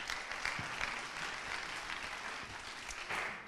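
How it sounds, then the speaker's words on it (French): Steady audience applause at an innovation pitch event fills the room, a continuous wash of many hands clapping without voices, quite faint overall. "On peut l'applaudir, hein."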